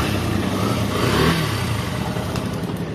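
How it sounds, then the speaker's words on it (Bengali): A 2023 Yamaha Fazer version 2 motorcycle in showroom condition runs close by, its engine giving a steady, loud, even rumble with a slight swell in revs. "বাইকটা চালু করে বাইকটার ইঞ্জিনের সাউন্ড দেখায়"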